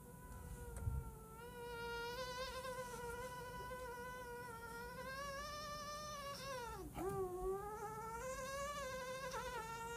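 A human voice imitates an autumn mosquito, holding a long, thin, wavering whine that bends in pitch and briefly dips before climbing again, steady and fairly close for about ten seconds, without words.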